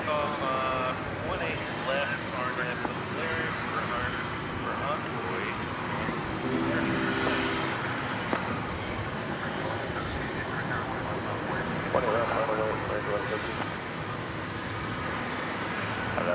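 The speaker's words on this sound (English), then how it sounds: "Another 20th century plane." A 20th-century airplane passes at DFW Airport as a steady, broad jet roar that carries on for the whole stretch, fairly distant and muffled, with people talking over it.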